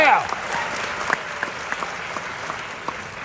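Theatre audience at the Ebell Theatre in Los Angeles applauding during a stage conversation with Tom Hanks, a steady wash of many hands clapping at moderate level throughout.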